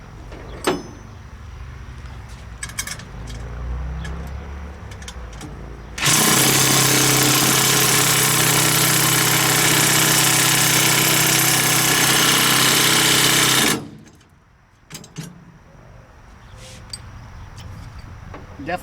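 Two 18V half-inch cordless impact wrenches, a Milwaukee M18 and a Snap-on, hammer away at a stuck bolt in one loud, sustained burst of about eight seconds, with quieter clanks of tools before and after.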